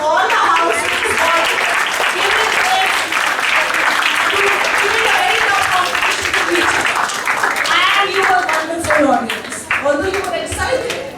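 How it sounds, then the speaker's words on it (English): Students at an inter-house school maths quiz give loud, close applause that carries on for about eleven seconds. Cheers and voices rise through it before it thins out near the end. "So big round of applause."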